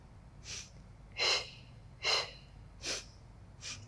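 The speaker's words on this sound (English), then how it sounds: "Inhale." Breaths drawn during a Pilates matwork exercise come as four or five separate airy inhales at steady intervals, close and fairly soft, with no talking.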